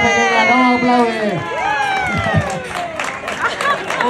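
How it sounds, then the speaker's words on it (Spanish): At a downhill mountain bike championship podium in Panticosa, a crowd cheers and claps while people shout and talk loudly over the noise, with excited voices rising and falling. "¡Vamos a aplaudir la pequeña! ¡Vamos a aplaudir!"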